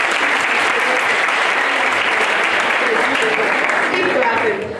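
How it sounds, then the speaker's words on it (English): Loud, sustained applause from an audience greeting Mr. Joseph Akambarabuk Abula at a live event, dense clapping filling the whole stretch before easing slightly at the very end, with some voices mixed in. "A big round of applause for Mr."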